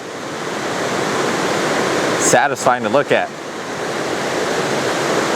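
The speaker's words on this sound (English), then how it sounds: "that water flowing down is mesmerizing" Water pours steadily down a spillway dam on a mountain trout river, a constant broad rushing roar that continues throughout while someone speaks briefly over it.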